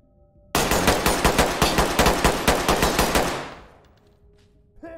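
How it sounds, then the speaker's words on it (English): Rapid automatic gunfire in the tactical shooter game Ready or Not, a loud, steady burst of evenly spaced shots lasting about three seconds, then a short echoing tail fading into quiet. "I missed every shot and I died."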